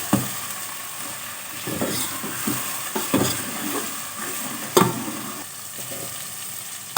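Boiled chickpeas fry with golden onions in a pan, giving a steady close sizzle broken by repeated scraping stirs of a spoon.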